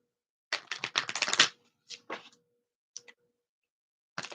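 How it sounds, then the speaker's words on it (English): A deck of oracle cards is shuffled by hand in close, dry bursts of rapid crisp flicks, one longer riffle followed by a few short shuffles with brief silences between. "All right, let's get a couple more shuffles."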